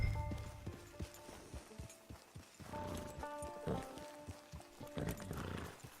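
Horse hooves clip-clop in Red Dead Redemption 2 Online, a steady run of close hoofbeats with a brief whinny, a faint tonal game soundtrack underneath and no talking.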